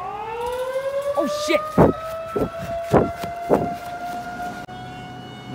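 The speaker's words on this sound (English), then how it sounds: "Listen to that. That's a siren." A civil defense tornado siren wails during a storm, a sustained rising tone that holds steady, with a series of loud bursts breaking in over it and a brief exclaimed voice.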